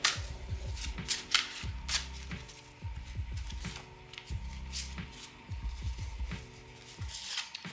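Tarot cards are shuffled by hand for a reading, with repeated riffling, flapping bursts in a steady rhythm, close and fairly quiet, with no talking.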